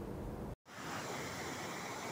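Overflowing Bendo Krosok river in Bakalan village, Kediri, East Java, after its embankment broke, roaring as a loud continuous rush of floodwater, cut off by a brief silent gap before the steady torrent resumes.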